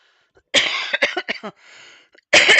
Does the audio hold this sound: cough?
yes